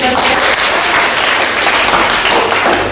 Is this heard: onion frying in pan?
no